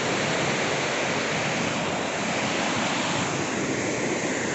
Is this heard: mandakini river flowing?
yes